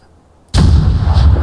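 A single long-range rifle shot in Fallout 4 bursts in abruptly after a quiet moment, a loud, heavy blast with a booming low rumble that rolls on for about a second.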